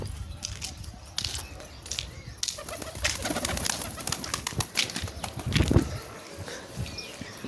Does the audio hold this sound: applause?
no